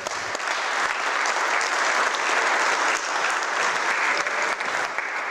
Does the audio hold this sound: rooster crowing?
no